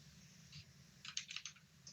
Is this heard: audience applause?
no